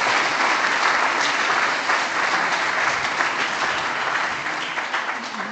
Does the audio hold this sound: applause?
yes